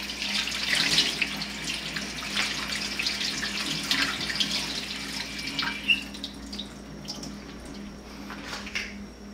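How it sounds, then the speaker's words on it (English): Warm water runs steadily from a tap while a cast candy vase is washed beneath it, a close, continuous hiss and splash with small shifts in the flow. "A little warm water."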